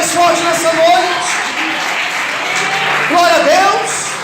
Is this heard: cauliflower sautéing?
no